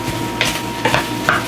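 Mushrooms fry in a pan over high heat with a steady sizzle, broken by three short stirring scrapes of a utensil against the pan, close and clear with nobody talking.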